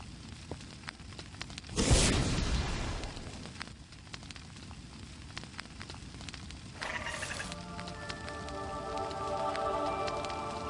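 A dragon egg hatches by a fire in a Harry Potter video game. A loud cracking burst opens it, followed by a soft, crackly wash and then a bright, shimmering chime-like swell toward the end, with no talk.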